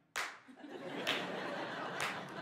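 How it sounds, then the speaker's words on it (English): Slow, sarcastic hand clapping at a comedy show, three sharp, evenly spaced claps about a second apart over a murmur of audience laughter. "I have like this slow, sarcastic clap, like."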